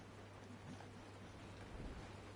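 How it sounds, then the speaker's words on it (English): Steady, soft rain hiss in the video game Honkai: Star Rail fills the scene evenly, with no other sounds standing out. "Yeah, it sounds like it's raining."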